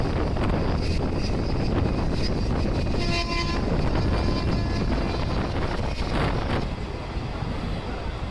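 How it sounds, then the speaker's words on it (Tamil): A Jan Shatabdi Pongal special train from Tambaram to Trichy rumbles along with continuous rail noise and wheel clatter, a brief tonal horn-like sound rising midway, loud and close. "இந்த ஸ்பெஷல் ட்ரெயின் கிளம்புதுங்க"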